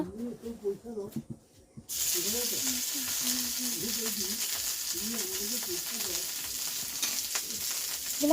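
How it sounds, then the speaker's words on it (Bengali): Mola fish and fish roe drop into hot oil and burst into a loud, steady frying sizzle that keeps going. Someone talks quietly before and under it. "মোলা মাছ আর মাছের ডিমটা ভাজবো"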